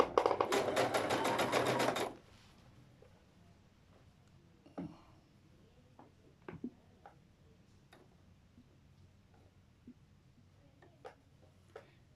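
A sewing machine stitching folded fabric in one fast, loud, rapid burst of about two seconds, then quiet with scattered faint clicks and small handling taps.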